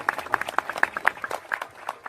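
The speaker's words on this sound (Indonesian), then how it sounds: "Tepuk tangan dulu buat BBW" A small audience at a Maiyah gathering gives a short burst of scattered hand claps, loose and uneven for about two seconds.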